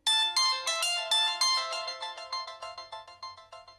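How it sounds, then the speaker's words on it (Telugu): A phone ringtone for an incoming call plays a bright, repeating melodic chime of quick ringing notes, loud and close, alone with no voices. "కాల్ వస్తుంది సార్"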